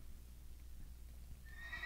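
A Minecraft horse whinnies in the video game, a short bright neigh rising near the end after quiet low ambient hum, alone without speech.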